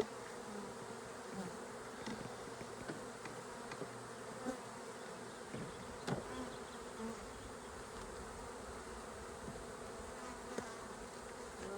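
Continuous low buzzing of many honeybees swarming around a hive box, a steady droning hum with occasional individual insects passing closer.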